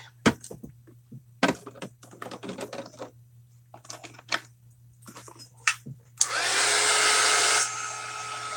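A hair dryer blows on a journal page, a loud steady whoosh that starts after several irregular clicks and taps of crafting handling, then runs on continuously to the end.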